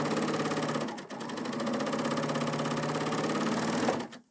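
A sewing machine runs steadily at speed, stitching across a seam in fabric, its rapid mechanical hum continuous with one short dip in pace before stopping abruptly, close and alone with no talk.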